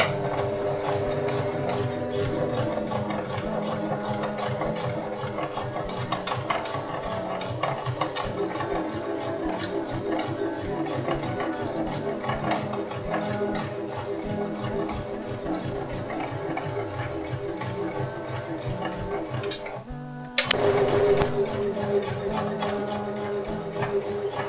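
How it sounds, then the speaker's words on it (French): A sewing machine stitches a sfifa braid trim in a straight line onto a long dress, running as a steady mechanical whir for about twenty seconds, then pausing briefly before starting up again slightly louder. "on va venir en fait ramener notre Sfifa sur ce trait et on va venir coudre"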